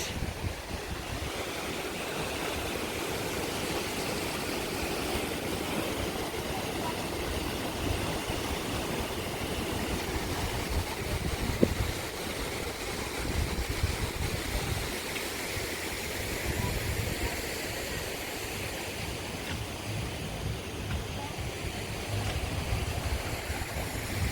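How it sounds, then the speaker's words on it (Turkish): Waterfalls pouring at a resort in Göcek, a steady broadband rush of falling water that fills the whole stretch, loud and continuous with no pauses. "Bu şelaleleri karşıdan çekelim."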